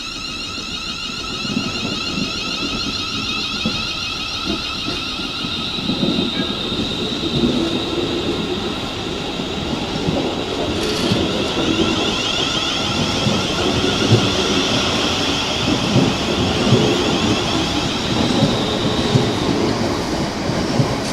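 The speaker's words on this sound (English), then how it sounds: "I've got 360-110 now, on the front of the 11:52 service to London Liverpool Street, departing from Ipswich Station." A Class 360 electric train departs Ipswich Station, with a steady, loud rumble of wheels on rail and a sustained high motor whine that continues throughout, without any voices.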